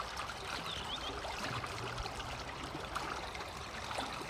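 Water gurgling steadily along a rural irrigation channel in Japan that floods fields, a close, continuous babbling trickle with no voices.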